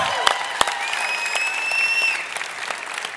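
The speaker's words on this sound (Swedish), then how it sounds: "En applåd för Filip." An audience applauds at a Swedish chef-of-the-year cooking competition final, a dense burst of clapping filling the room for a few seconds with a high whistle-like tone running through it, fading slightly at the end.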